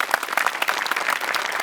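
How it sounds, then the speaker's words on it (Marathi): An audience at a Marathi comedy stage show applauds for the performers with sustained, dense clapping at an even level, and no one speaks during it. "तर सचिनसाठी आणि विनायकसाठी टाळ्या."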